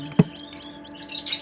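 A newly hatched Serama chick, the world's smallest chicken breed, peeps in a brooder. A soft knock is followed by a few thin, high, close chirps, faint and alone with no talking.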